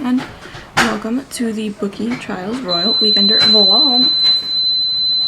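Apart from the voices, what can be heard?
smoke alarm going off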